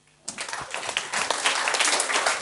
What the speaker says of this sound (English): So let's one more clap for him.